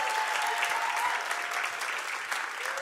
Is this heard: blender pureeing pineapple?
no